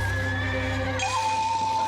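In a Kia Tasman ute TV ad, a horse lets out a loud, close, shrill whinny that wavers and then shifts to a steady higher tone, with faint hoof clip-clops underneath.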